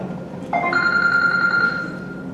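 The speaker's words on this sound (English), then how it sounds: "That's the phone ringing." A telephone rings during a talk, its electronic tone entering sharply and holding steady for about a second and a half before fading, with a room hum underneath and no voices.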